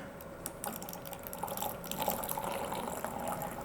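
A cacao chocolate drink is poured back and forth to whip up froth, giving a continuous liquid splashing and trickling that stays fairly quiet and close throughout.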